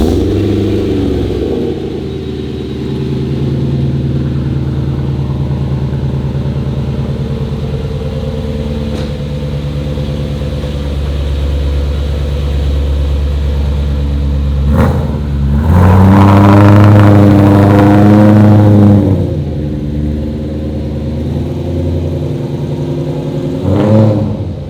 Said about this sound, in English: We're pulling the car out right now